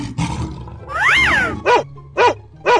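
A dog sound effect in a children's animal cartoon gives three short, sharp barks at an even pace, loud and close. A long roaring growl comes before them.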